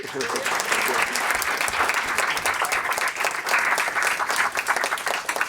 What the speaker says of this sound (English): let's continue the applause